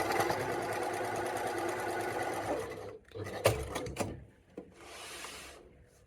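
Sewing machine stitching fabric for a tunic, a loud steady mechanical whir for about three seconds, then stopping, followed by a few soft handling knocks and rustles and a brief fainter burst of stitching.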